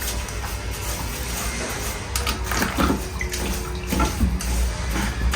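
A plastering whisk being rinsed in a bucket of water, with steady splashing and sloshing that grows busier as it is worked around, several sharper swishes and knocks near the end.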